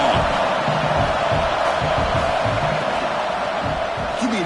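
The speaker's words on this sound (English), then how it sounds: "the crowd coming to life here, trying to help this defense down in the red zone" A college football stadium crowd roars and cheers in a continuous wash of noise, trying to rally the defense in the red zone against Syracuse, with scattered whoops rising above the broad din.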